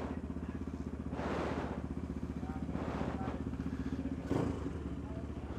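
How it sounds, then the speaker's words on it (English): A Tianda TDR300 dirt bike engine runs at a racetrack, a steady close rhythmic thumping putter that surges in a few brief revs. "Sound of the moto."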